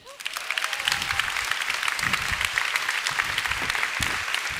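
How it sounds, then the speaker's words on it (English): An audience at the LOGIN 2019 conference breaks into warm applause for a speaker taking the stage. The clapping swells quickly from a quiet start into a steady, loud, dense round of many hands, with no voice over it. "please give an incredible, warm round of applause for Vincent Villeger"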